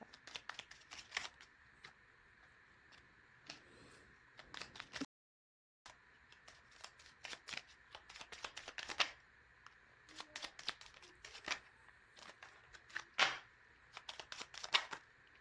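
A deck of playing cards is shuffled and riffled by hand in quick, crisp bursts of papery flutter, close up and steady, with one brief silent gap partway through.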